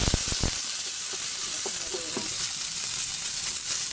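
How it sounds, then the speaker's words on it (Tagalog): Tomatoes sizzle in a pan with leftover fish, a steady close frying hiss with a few soft stirring clicks near the start and no talk. "Lagay ko na rin yung ating kamatis para madurog siya."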